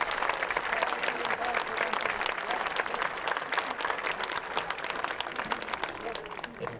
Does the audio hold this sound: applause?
yes